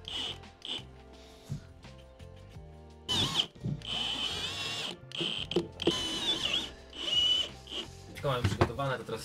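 A power drill drives screws through wooden battens and board into the metal frame of a bus being converted into a camper, whirring in short bursts while someone talks nearby.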